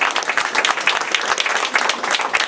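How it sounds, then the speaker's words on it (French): A live audience at an arts festival in Perros-Guirec applauds the festival's poster designer with brisk, continuous clapping of many hands, close and steady with no talk. "on doit l'applaudir"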